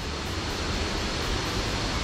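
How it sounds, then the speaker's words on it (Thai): Waterfall in a Thai forest along a steep trail, a steady broadband rush of falling water that fills the whole clip, close and continuous with no voices. "เสียงน้ำตกครับ"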